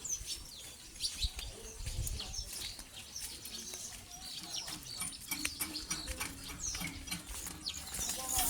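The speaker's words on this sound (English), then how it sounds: "sounds of the Kingfisher birds" Kingfishers call at a lakeside fish landing site on an island, sharp chirps and twittering scattered over a faint outdoor background with soft patter.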